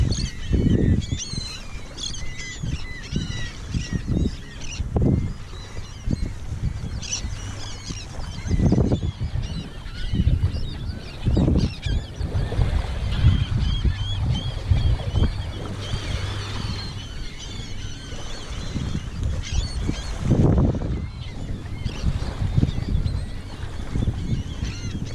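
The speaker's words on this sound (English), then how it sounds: "But there's tons of pelicans and seagulls." Crowds of pelicans and seagulls at Fort De Soto's east beach keep up a constant chatter of squawks and calls, with occasional louder bursts close by over a steady outdoor wash.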